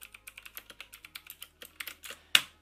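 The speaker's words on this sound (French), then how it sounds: "C'est parce que c'est un bruit de clavier mécanique et honnêtement c'est le bruit le plus stylé du monde." Mechanical keyboard with high-pitched keys and RGB backlighting being typed on: a steady run of crisp, close clicks about four or five per second, ending in one sharper, louder keystroke.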